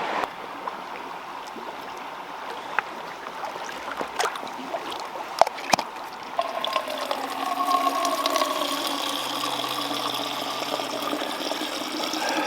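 Alpine river water rushing steadily nearby in sub-zero Australian backcountry, a continuous broadband flow that grows fuller and brighter in the second half, with a few sharp clicks and knocks from filtering gear.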